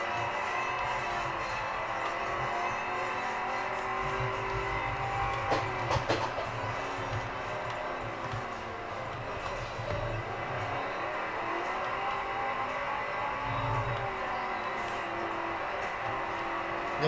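A car engine drones steadily during off-road driving in a racing video game played with a steering wheel. The tone holds a continuous mechanical hum with slight rises and falls, and no talking.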